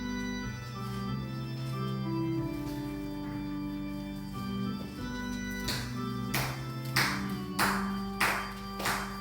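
Rhythmic clapping from a Sunday worship congregation singing a hymn together, claps growing sharper and louder toward the end over sustained singing and accompaniment.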